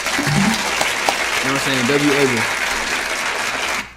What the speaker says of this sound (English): Clap it for Abel, man.